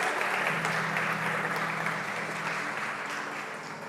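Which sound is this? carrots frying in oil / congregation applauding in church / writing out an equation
congregation applauding in church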